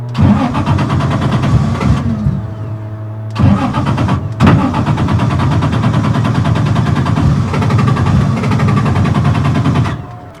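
A car engine cranks and catches, cuts out briefly, then restarts and runs with a steady mid-pitched drone and a sharp pop, close and loud; the fuel pump is said to sound different.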